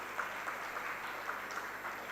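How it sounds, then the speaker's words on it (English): Faint, steady applause from a microbiology conference audience at an inauguration ceremony, continuous clapping heard from some distance. "we should have a big clap for Salim Habib University"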